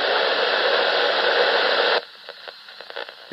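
Radio static from a RadioShack 12-519 EAS receiver, a loud, steady hiss that cuts off abruptly partway through, leaving faint clicks and ticks.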